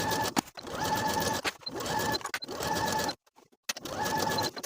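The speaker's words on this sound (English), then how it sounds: "And then sew both of your side seams with the 5/8 inch seam allowance." A domestic sewing machine stitches the side seams of a jacket at a 5/8 inch seam allowance in four steady running bursts, with short stops and one clear silent pause between them.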